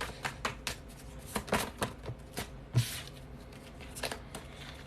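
Tarot cards are shuffled by hand, a series of close, crisp riffling and flapping bursts in an uneven rhythm, with a sharper slap as cards spill out of the deck.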